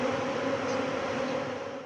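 A steady, close buzzing drone of many bees near their hives, constant and fairly loud throughout, with no voices.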